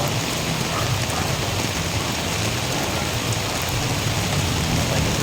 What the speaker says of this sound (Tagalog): Lumakas pang ulan mga ka-idol ngayon.